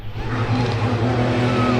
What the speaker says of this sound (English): You can hear the unmistakable sound of that V6